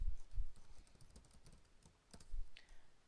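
Keys on a computer keyboard are tapped in an uneven run of clicks while a spreadsheet formula is entered. The typing is close and moderately loud, with short pauses between strokes and no talking.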